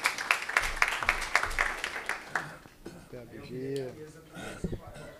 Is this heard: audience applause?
yes